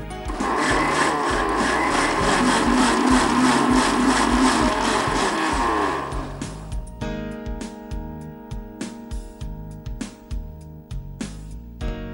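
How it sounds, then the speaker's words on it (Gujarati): A kitchen mixer grinder blends an onion-garlic gravy with a loud, continuous whirring roar for about six seconds, then stops, leaving lighter clatter and knocks. "હવે પ્રોપરલી ગ્રાઇન્ડ કરી લઈએ."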